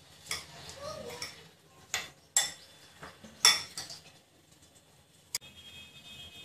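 Vegetables, beans and salt being stirred into bread uttapam batter in a bowl, giving a few scattered clinks and scrapes of a spoon against the dish, fairly quiet and close.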